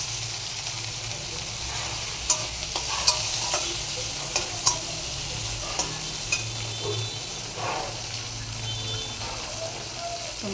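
Tomatoes fry and are stirred in a pan for a soybean curry, a steady low sizzle with scraping stir strokes and a few sharp utensil clicks throughout.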